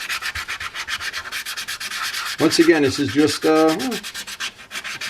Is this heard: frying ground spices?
no